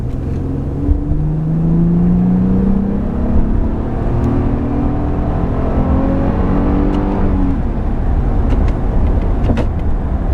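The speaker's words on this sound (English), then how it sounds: "I can downshift and do a little acceleration pass here" Loud, close engine of a 2008 Acura TL revving up through rising tones, dropping pitch at a downshift and then climbing again under hard acceleration.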